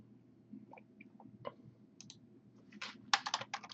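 Light clicks of typing on a computer keyboard, sparse at first then building into a quicker run of keystrokes, close and fairly quiet.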